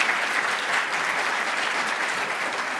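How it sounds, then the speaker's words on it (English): A conference audience applauds panelists at a bank conference, a dense, steady clapping that holds evenly at moderate loudness for the whole stretch, with no voices over it. "join me in giving a round of applause to these panelists"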